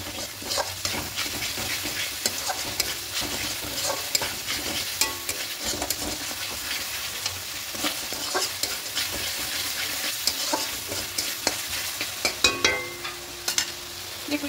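A spice paste for egg korma, with sugar added, sizzles and fries steadily in oil in a pan. A spoon scrapes and stirs it in close, irregular knocks, and no one speaks.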